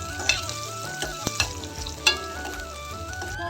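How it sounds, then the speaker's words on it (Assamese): Crushed ginger and garlic fry with onions in a pan, a steady close sizzle broken by several sharp knocks and scrapes of a spoon stirring, with no voices. "এইখিনি ভালকৈ লৰাই ভাজি ল'ম।"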